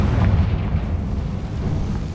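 A Confringo spell blasts in Hogwarts Legacy on PS5, a loud, deep explosive boom that rumbles and decays over a couple of seconds.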